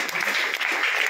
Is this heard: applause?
yes